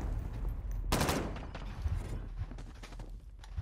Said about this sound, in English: He shot at you with a pistol and shot me with a machine gun.